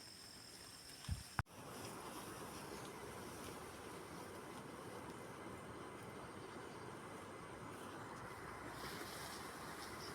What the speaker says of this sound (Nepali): यतातिरबाट डेन्जर सुसाउँदै पानी आएर सायद पानी नै आएको हुनुपर्छ